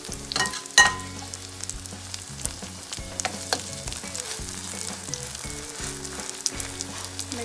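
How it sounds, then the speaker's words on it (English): Thin vegetable pancake batter fries in a pan with a soft, crackling sizzle and scattered pops, heard under steady background music. "So pour the batter in the pan."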